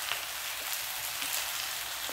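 Spices with turmeric, red chili, coriander powder and salt frying in a home kitchen pan, giving a steady, close, even sizzle that hisses without a break for about two seconds, with no talking.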